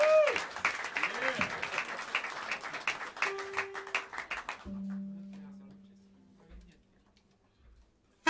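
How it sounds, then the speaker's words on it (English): Jazz club audience at Smalls in New York applauds an alto saxophonist, brisk clapping with a few whoops for about four and a half seconds, then fading to near silence with a faint tone and a brief clap at the end. "a big round of applause for the on the alto saxophone, the great Jesse Davis."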